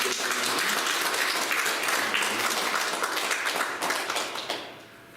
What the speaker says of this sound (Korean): 다시 한 번 더 하나님께 영광의 박수 올려드리겠습니다